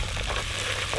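Mustard seeds, cumin and chopped radish frying in hot oil for a Gujarati dish, a steady close crackling sizzle with no talk.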